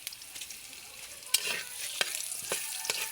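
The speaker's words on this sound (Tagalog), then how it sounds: "unahin natin ang bawang. Kasi mas malasa, igisa sa pinagprituhan na isda" Garlic sizzles in hot oil left over from frying fish, a soft steady crackle broken by sharp scraping stir strokes, close and fairly quiet.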